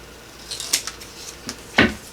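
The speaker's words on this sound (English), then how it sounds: "I'm just going to eyeball it and cut what I think is going to be about a 1/2 inch." Scissors snipping about half an inch off a piece of paper or card for a photo folio, a few faint, quick cuts with one louder, sharper snip near the end and no talking.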